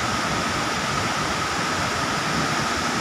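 Waterfall at Curug Cipendok throwing fine spray, a steady, dense broadband rush of falling water, even and unbroken throughout with no voices.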